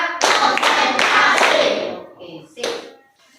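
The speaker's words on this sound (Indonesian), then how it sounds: "tepuk 1, tepuk 1, tepuk 2, tepuk 3, tepuk 4" A school class claps a rhythmic counting pattern in a classroom, several sharp loud group claps in quick sequence with a short pause, then one final clap, close and bright.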